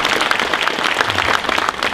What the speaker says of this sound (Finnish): Ja aplodit kultamitallisteille.